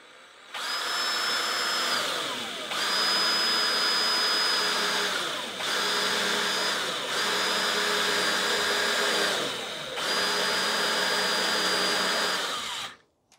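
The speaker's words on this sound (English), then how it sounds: "I'm going to make the hole down here a little bit where it's a flatter section" A power drill bores a hole through the flat lower section of a plastic rain barrel, whining loudly in four separate bursts with brief pauses between, close and with no talk.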